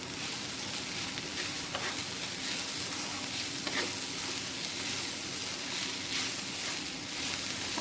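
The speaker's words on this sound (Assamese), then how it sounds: "আদা নহৰুৰ পেষ্টখিনি দি দিম আৰু গোন্ধ যোৱালৈকে ভাজি ল'ম এইখিনি" Ginger garlic paste frying with water hyacinth flowers in a pan, a steady close sizzle with occasional soft stirring scrapes and no talk.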